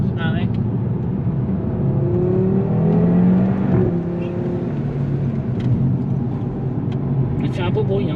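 A sports car engine rumbles and revs steadily at a car show, its pitch rising and falling, with people talking over it.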